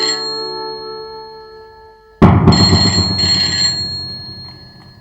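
A telephone rings loudly with steady tones in a tense household scene from a Hindi TV drama, then a sudden dense burst of sound swells in and fades gradually.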